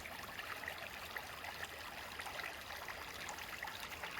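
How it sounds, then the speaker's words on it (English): Houston Brook flowing steadily through woodland, a continuous soft trickling and babbling of water with no pauses, fairly quiet and close. "Here we are at the Houston Brook."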